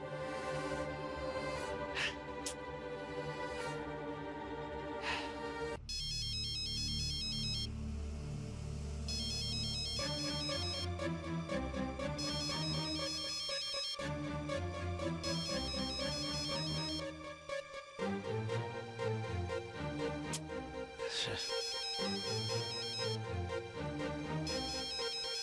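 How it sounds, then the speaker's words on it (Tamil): A phone ringtone plays a looping electronic melody over and over, loud and continuous for the whole span, in a Tamil television drama scene. "என்னம்மா போன் அடிச்சுக்கிட்டே இருக்கு"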